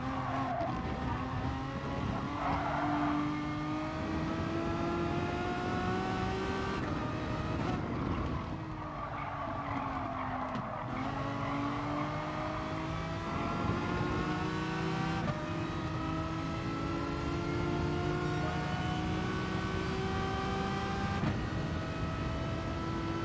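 Race cars in GT Sport hold a continuous engine drone, revving and shifting pitch through gear changes over a long stretch. Tire squeals and skids break in now and then, and no one speaks.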